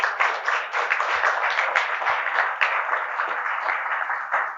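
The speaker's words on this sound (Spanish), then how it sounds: "Denle un aplauso, por favor." A church congregation applauds in one dense, sustained burst of many hands clapping. It is loud and even and continues for several seconds without any voice above it.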